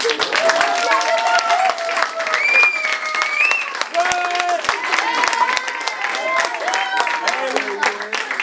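An audience in a community neighborhood gathering applauds steadily and loudly throughout, with voices and chatter mixed into the clapping.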